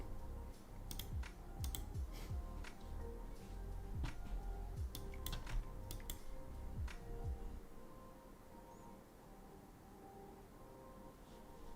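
Fingers tap rapidly on a computer keyboard in irregular bursts of clicks, close and fairly quiet, with a low room hum underneath and no talking.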